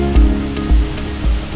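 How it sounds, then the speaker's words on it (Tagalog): Abungan Falls in Dingalan, Aurora, fed by water from the Sierra Madre, roars as a steady, loud wash of falling water, with a few heavier low rumbles swelling through. "Ang tubig ng Abungan Falls ay galing sa taas ng Sierra Madre."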